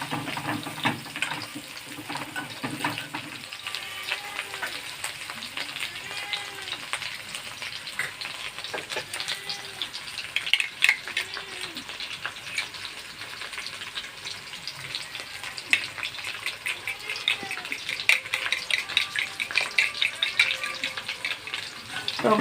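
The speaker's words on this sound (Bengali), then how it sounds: "আদা রসুনের একটু ভাজতে ভাজতে তারপরে দিয়ে দেবো আমরা টক দই।" Ginger and garlic masala frying in a pan on a low flame, a constant close sizzle and crackle that runs throughout with occasional stirring scrapes, and no one speaking.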